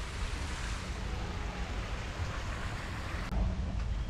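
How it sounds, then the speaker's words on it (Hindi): An artificial waterfall in a Delhi park pours in a steady, broadband rush, close and constant with no talk heard over it. "ये पीछे मेरे देख सकते हो ये झरना बना रखा है"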